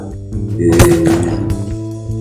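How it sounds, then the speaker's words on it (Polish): A single shotgun shot fired at a clay target during shooting practice, with a choke fitted. A sharp, loud report sounds close by, then a short rumbling decay. "strzał"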